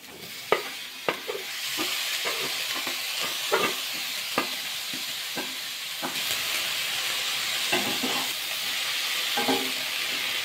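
Shredded cabbage crackles in a pan of frying masoor lentils and spices, a constant close sizzle broken by scattered taps and scrapes of stirring, with no talk.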